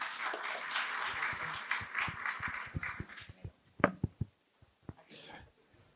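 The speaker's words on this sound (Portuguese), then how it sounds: "Palmas para eles." An audience at a business presentation on smart access control applauds. Dense, steady clapping fills the first few seconds, then thins into scattered claps and fades out.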